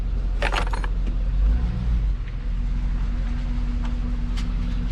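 A badly wrecked Cadillac Escalade with no rear corner, steering wheel, gear shifter or seat drives along, its engine a steady low rumble with loose metallic rattles and clatter over the top, close by.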